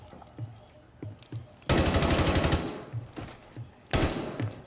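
Two loud bursts of automatic gunfire from Rainbow Six Siege, the first long and sustained, the second shorter, with softer rhythmic thumps and footsteps in between.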